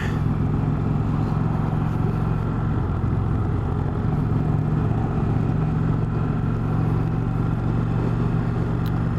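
An Indian Chieftain motorcycle engine cruising in third gear at about 40 mph, a steady low throbbing drone mixed with constant wind rush, loud and unbroken throughout with no talking.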